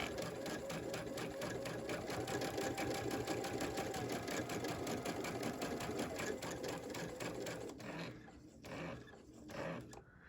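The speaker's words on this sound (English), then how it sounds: "I'm gonna put my foot down again, and we'll stitch on this side" A digital sewing machine with a dual feed foot stitching in the ditch around a quilt block, running in a fast, even mechanical whir at close range for most of the time before slowing and stopping.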